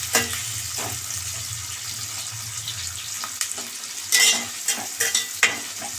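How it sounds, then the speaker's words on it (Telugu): Onions frying in hot oil in a home kitchen, a steady low sizzle running throughout with occasional stirring scrapes and clinks growing more prominent toward the end, no voices. "ఉల్లిగడ్డలు వేసాను. ఈ నూనెలో బాగా వేగాలి."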